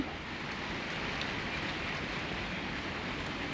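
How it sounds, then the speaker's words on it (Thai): Rain falls steadily and close by as an even, dense hiss with no pauses, and no one speaks. "ฝนตกนะ"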